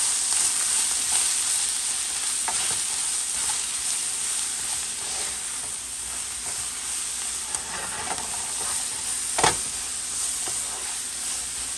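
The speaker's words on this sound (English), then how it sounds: "now we're going to stir all this together" Seafood boil ingredients with parsley being stirred in a pot, a steady, hissing sizzle with occasional soft knocks from the spoon, close and continuous with no talking.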